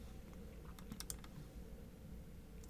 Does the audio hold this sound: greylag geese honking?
no